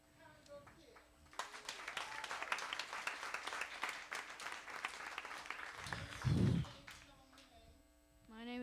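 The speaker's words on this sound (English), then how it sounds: "give a big round of applause to our 2023 Congo kids" Audience applause for a group of young drum students at a panel event, a broad burst of clapping that swells for several seconds, then fades as voices and a low hum carry on.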